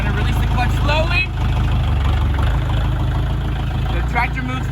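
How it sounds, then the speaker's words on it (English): A tractor engine chugs steadily as the machine rolls forward after the clutch is released, a loud, close mid-pitched drone running throughout while someone talks over it. "The tractor moves forward, and we can hit the brakes."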